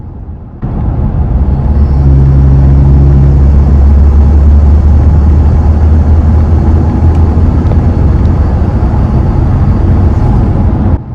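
A new Toyota Tacoma fitted with boost tubes accelerates from inside the cab, starting with a quiet lead-in, then holding a steady, loud engine drone with a rising whine until it cuts off near the end.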